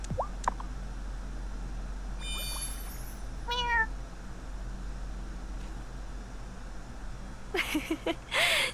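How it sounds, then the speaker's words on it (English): Cat meowing in the video game Wylde Flowers, a few short faint mews over a quiet ambient hum, with brief chirpy game sound effects between them. "Oh, such a good cat."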